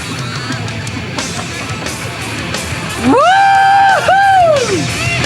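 A man screams loudly in a sustained, rising and falling yell that cuts through a noisy room with crowd murmur behind it.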